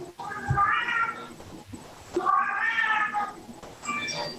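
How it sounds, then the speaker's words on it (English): Pet cats meow in two long, drawn-out calls followed by a shorter third, loud and close with no other sound around them. "My kitties."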